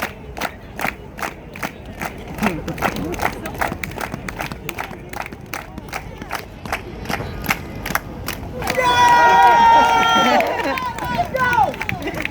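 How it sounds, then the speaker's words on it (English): An outdoor street-show crowd in Times Square, New York claps in a steady, even rhythm, sharp regular beats under shouting voices, before the clapping gives way to a loud burst of cheering near the end. "Everybody clap their hands."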